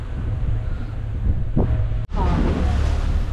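Steady wind buffets a boat on the water off Key Largo on a breezy, clear day, a constant rushing roar with one brief dropout midway.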